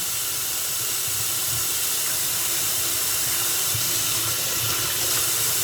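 A knife is rinsed under a running kitchen tap, a steady close hiss of flowing water that continues without a break.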